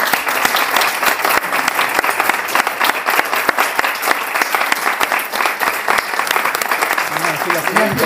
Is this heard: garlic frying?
no